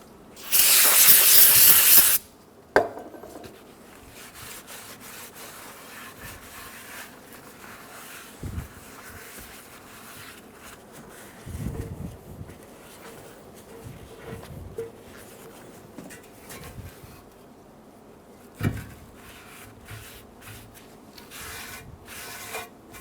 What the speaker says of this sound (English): we're going to take a rag and some parts cleaner, and we're going to clean around the outside and inside of the pan.